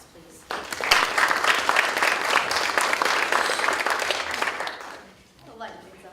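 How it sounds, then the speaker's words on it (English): An audience gives a round of applause at a showcase event, with dense clapping that swells quickly, holds steady for about four seconds, then fades. A few voices are heard near the end. "can we give you guys a round of applause, please?"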